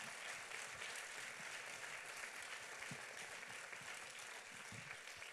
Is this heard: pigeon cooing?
no